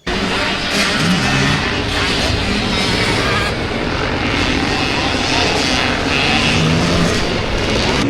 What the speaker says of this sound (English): a quiet valley in Conondale that comes alive with the sound of classic dirt bikes